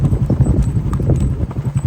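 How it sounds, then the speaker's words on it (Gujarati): A ridden horse on a riding outing walks with loud, close hoofbeats in a quick, uneven clip-clop rhythm throughout. "ફ્રીલી લગામની અંદર ઘોડો ચાલી રહ્યો છે"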